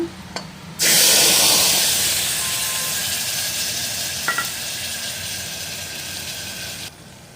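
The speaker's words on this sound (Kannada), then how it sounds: "ಒಗ್ಗರಣೆಗೆ ಹಾಕೋಣ ಇದನ್ನು" Spices for tempering hit hot oil in a pan with a sudden loud sizzle, then keep up a steady hiss that slowly fades over several seconds before cutting off.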